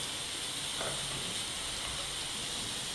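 Butter melting in a pan, a steady soft hiss and sizzle running quietly and evenly throughout, with no talk.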